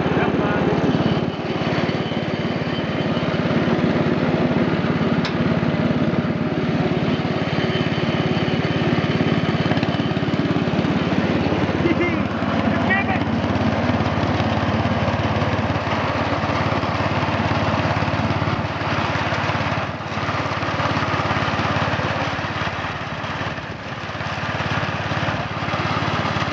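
A riding lawn mower cuts grass in second gear, its engine droning loudly and continuously nearby with only slight dips in level throughout.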